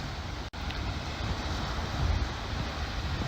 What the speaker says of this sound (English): Sorry this is so windy.